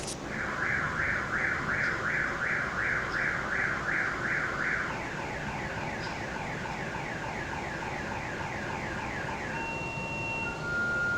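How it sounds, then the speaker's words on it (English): A house alarm going off, with a rapid warbling electronic tone that later switches to steady beeps and shifting pitches. It sounds moderately distant over a constant background hiss. "he heard his house alarm go off"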